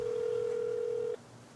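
A telephone call is placed: a single steady tone holds for about a second, then cuts off, leaving faint background hiss.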